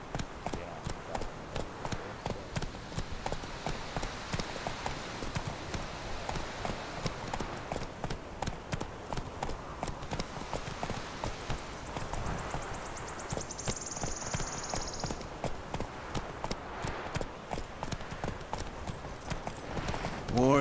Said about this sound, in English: Get the horse to come to me.